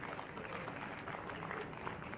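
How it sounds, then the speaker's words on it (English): Quiet audience applause at a conference event, a short stretch of fairly faint, steady clapping with no clear talk over it. "Give them a huge round of applause."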